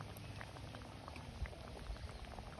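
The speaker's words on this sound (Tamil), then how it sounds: "சரக்கு மீன் குழம்பு வந்து நல்ல கமகமண்டு வாசம் பெறுது, நல்லா கொதியும் கொதிச்சிட்டுது." Jaffna-style fish curry simmers in a pot in a village kitchen, giving a faint, steady bubbling with a few soft plops, and no one speaks.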